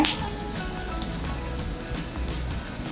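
Sliced onions and five dried red chillies sautéing in an oil-slicked pan for chutney, a continuous close, even sizzle with faint crackle and no voices.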